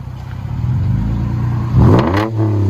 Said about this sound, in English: Lexus GS 350, DYNOMAX bullets, and muffler delete